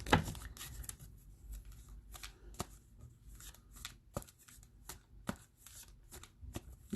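A deck of tarot cards being shuffled by hand, a close, quiet series of riffles and soft slaps repeating irregularly throughout with no talking.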